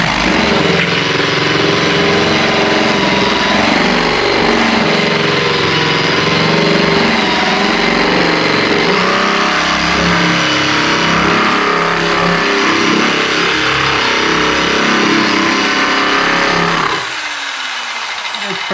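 Loud, steady motor whine of a Bauer 9 amp surface conditioning tool, model 20104E-B, sanding wood with 120 grit, running continuously before cutting off near the end.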